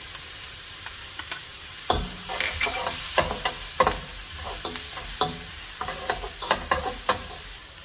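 Garlic with onion and scallion whites sizzles in a hot pan for house special fried rice, a continuous frying hiss broken by frequent scraping stir strokes and sharp spatula clacks against the metal.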